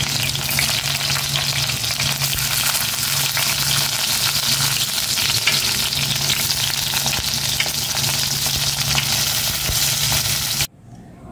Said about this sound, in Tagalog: Magprito naman ako ng talong kasi umuod na.